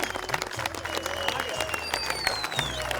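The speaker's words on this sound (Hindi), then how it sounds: "तो बोलो मारी जोर से ताली।" A crowd applauds a Sabalpur wrestler's semifinal win at a wrestling bout, with dense, continuous clapping that holds steady for about three seconds, mixed with some background voices.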